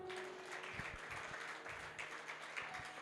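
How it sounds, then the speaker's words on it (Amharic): A church congregation claps through a service, the applause steady and fairly faint, with a few sharper individual claps standing out amid the crowd noise. "እስቲ አጨብጭቡ።"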